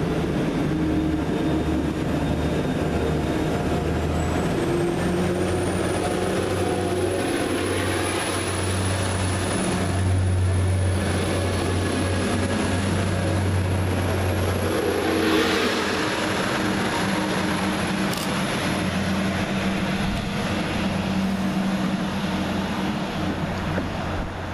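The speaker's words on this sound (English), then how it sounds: "starting with 175110, working the 1240 Transport for Wales service from Manchester Airport to Chester" A Transport for Wales Class 175 diesel train at Frodsham station, working a Manchester Airport to Chester service, with a steady low engine drone and rumble that holds throughout, plus a faint high whine, with no talk.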